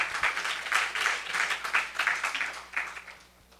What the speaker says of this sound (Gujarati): એ હરિભક્તોને આપણે તાળીઓથી ખૂબ વધાવીએ